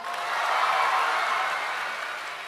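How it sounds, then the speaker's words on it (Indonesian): A school hall audience of teachers and students claps together in a steady, dense wash of applause that swells slightly and then holds, loud and close, with no speech over it. "Semuanya tepuk tangan."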